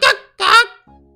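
A chicken caught in the video game Yo-Kai Watch lets out two loud, honking squawks in quick succession, followed by a short, faint electronic tone.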